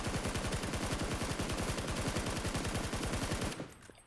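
Rapid automatic gunfire from a weapon in PUBG, fired while crouching and leaning to control recoil: a loud, dense, evenly spaced burst lasting about three and a half seconds, then cutting off abruptly into quiet.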